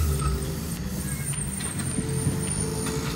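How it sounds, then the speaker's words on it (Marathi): A vehicle rolls up from behind, its engine a steady low rumble that holds close and loud throughout, with a faint high whine above it. "मागून पण गाडी आली"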